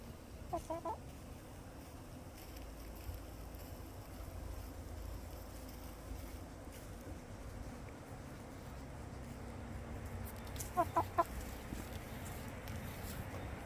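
Silver Wyandotte and Rhode Island Red hens cluck softly and intermittently over a quiet farmyard background, with a few sharper calls near the end.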